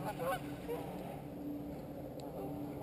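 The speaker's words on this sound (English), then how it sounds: "a couple goose just came in for a landing" Geese honking as they come in to land on water at a lake fishing spot, a few faint calls at the start over steady outdoor background noise.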